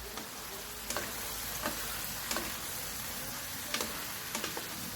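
Chicken tinola cooking in a pan, a steady frying sizzle throughout with scattered clicks and scrapes of a utensil stirring, quiet and close with no talk.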